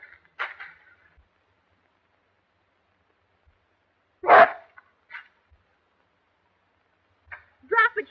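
A dog in a 1933 short film barks in a few sharp, separate bursts with silent gaps between them, loud and close, while tearing a cloth handkerchief.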